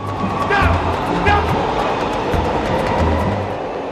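A train rolls past nearby with a loud continuous rumble, rhythmic low wheel thumps over rail joints and squealing metallic screeches.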